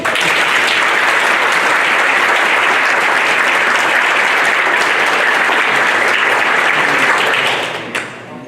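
Dense, loud applause from a dinner audience honoring faculty and staff at the Gonzalez Awards Dinner, sustained for several seconds before tapering off abruptly near the end.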